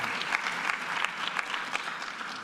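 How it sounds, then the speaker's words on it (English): Award ceremony crowd clapping for finalists, a brief lively burst of many hands with scattered sharper claps standing out. "Give yourself a round of applause."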